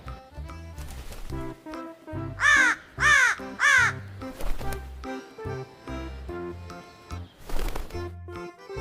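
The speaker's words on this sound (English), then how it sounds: "This is crow." A crow gives three loud, harsh caws in quick succession, set over a bouncy children's music backing track with no talking.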